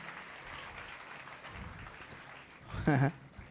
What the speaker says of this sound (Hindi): ताली बजा के प्रभु को महिमा दो।